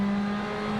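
Mini John Cooper Works rally car engine on a tarmac WRC round in Germany, held at a steady, sustained high drone for under a second, loud and close with no voices.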